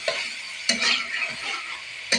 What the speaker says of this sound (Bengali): এখন আমি মাছটা এখানে ঢেলে দিলাম।